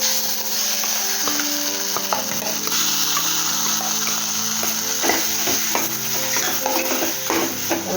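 Roasted masala paste for a prawn curry hits a hot pan with a steady, close sizzle and frying crackle, joined by scraping stirring strokes and a few light utensil knocks throughout.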